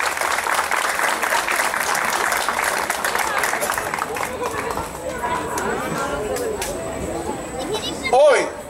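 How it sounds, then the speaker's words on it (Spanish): An audience at a neighborhood victory concert claps loudly for about four seconds, then the applause thins into crowd chatter and background speech. "les pido hoy a ustedes, a los presentes, un gran aplauso para estos héroes que están aquí."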